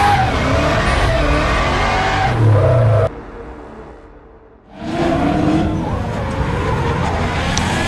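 Nissan Skyline R32 drift cars racing at the Val d'Argenton circuit during a French drift championship round, engines roaring loud and continuous with revving and tire noise, dropping away briefly midway before surging back.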